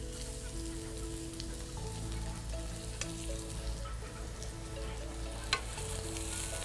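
Onions fry in a pan for noodles with orange juice, a steady, fairly quiet crackling sizzle with occasional small pops and stirring clicks, heard alone under faint background music.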